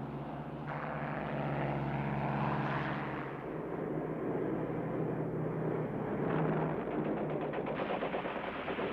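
Fighter aircraft engines droning loudly in a 1942 war setting, a steady roar mixed with bursts of machine-gun fire.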